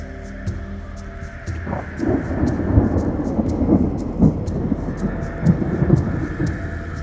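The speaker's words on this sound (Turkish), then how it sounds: "Bu ne şimşek çaktı be maşallah. Birazdan da ses gelir." Low, rolling thunder rumbles steadily after lightning through a rain-soaked background during a flood at a campsite, with scattered sharper cracks and surges building over several seconds; no talking.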